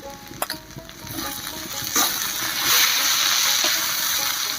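Egg curry spices being stirred and mixed in a pan, with scraping spoon strokes over a soft sizzle and bubbling, close and moderately loud.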